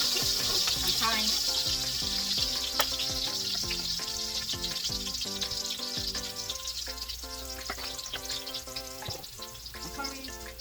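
Onions frying in a pan with curry powder and thyme, a steady dense sizzle running throughout, with frequent clinks and scraping from stirring layered over continuous background music.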